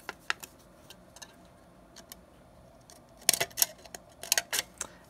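Scissors snipping through a thin aluminium beer can to cut petals for a crochet flower, sparse quiet clicks early, then a close cluster of sharp metallic cuts near the end.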